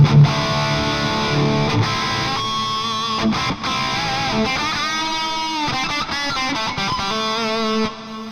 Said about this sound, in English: Here I've used a Marshall 45 with a jump, and I've pushed with the Super Drive